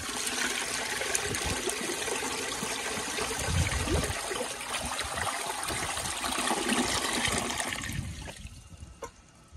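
A 2002 Sanitarios Maracay toilet flushes with a washcloth in the bowl: a loud, steady rush of water that runs for about eight seconds, then fades into a thinner trickle as the bowl refills.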